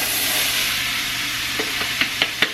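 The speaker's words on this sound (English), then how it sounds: "now that this is hot, I'm going to add all of the vegetables inside." Vegetables hit a hot soup pot for Romanian meatball soup, a steady broadband sizzle and hiss throughout, with a few sharp clatters of stirring near the end.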